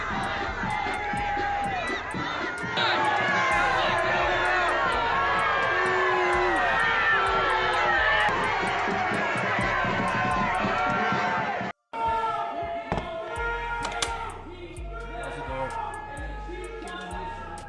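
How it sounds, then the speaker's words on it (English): A large crowd booing and shouting at the Maine governor, a loud dense wall of jeers and yelling that cuts off abruptly, then scattered voices and noise resume. "her own people are booing her"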